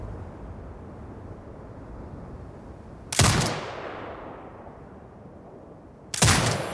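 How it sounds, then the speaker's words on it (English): An automated turret firing in Sniper Ghost Warrior Contracts 2, set in a grey desert: two loud sharp blasts about three seconds apart, the first trailing into a long fading echo over quiet ambient noise. "Exit binocular mode and command the turret to fire."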